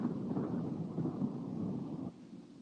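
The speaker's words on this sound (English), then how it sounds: "Oh man, storm's coming." Deep, continuous rolling thunder from an approaching storm in a radio ad, loud and steady, then dropping off abruptly near the end with no voices.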